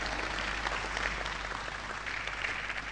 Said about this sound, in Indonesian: tepuk tangan untuk Anda semua